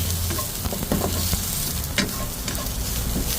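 Onions sauté in a pan for beef nilaga, a loud continuous sizzle up close with a few sharp stirring scrapes and taps.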